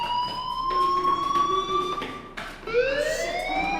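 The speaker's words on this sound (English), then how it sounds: "Hey, do you hear that fire alarm?" A fire alarm in the video game Life is Strange sounds in loud, sustained electronic tones that hold steady, break briefly and then return with a rising pitch.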